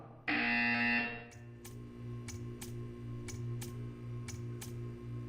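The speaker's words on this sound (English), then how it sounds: "You will hear a buzzer." A loud electronic buzzer from the video game Portal 2 blares for about a second, then a steady hum continues with regular, evenly spaced ticks.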